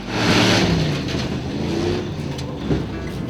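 A Hemi-engined pickup truck revs nearby, a steady, loud mid-pitched engine roar that swells early and then holds with slight rises and falls, with no talking over it.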